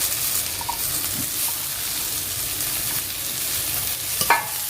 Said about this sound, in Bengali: আমি দিয়ে দেব দুটি কেটে রাখা টমেটো কুচি